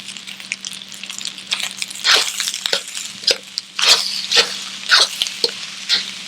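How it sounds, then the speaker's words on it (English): Shrimp, peas, carrots and green onions sizzle in a pan for shrimp fried rice, a low steady fry broken by repeated loud bursts of crackling as food is stirred and tossed. "I'm gonna add my shrimp in there. Gonna add my peas and carrots in."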